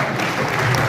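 A political audience breaks into applause, a dense, steady wash of many hands clapping at once, loud and close, filling the brief moment.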